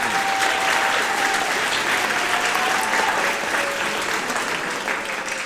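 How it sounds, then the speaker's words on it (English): An audience at a Selma Middle School fall band concert claps steadily, a dense wash of applause that holds loud for several seconds before easing slightly toward the end. "Students, we give Mr. Dudley a round of applause."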